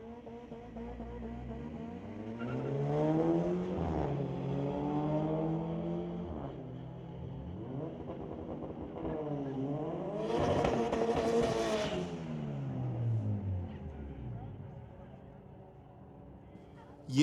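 Volkswagen and a 2011 Honda Civic with a swapped motor at a street-legal drag night at Mission Raceway Park, engines rising in pitch through gear changes, with a louder pass near the middle and an announcer talking over the cars.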